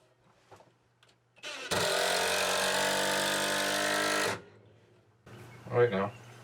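A power drill drives a screw into the wooden frame of a rabbit cage, a loud steady whir lasting about three seconds, followed by a short burst of nearby talk.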